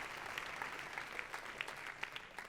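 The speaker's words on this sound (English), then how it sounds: "Round of applause for them." Audience applause for panel guests at a media forum on journalism, a steady wash of clapping with a few sharper individual claps standing out, fairly quiet and continuous throughout.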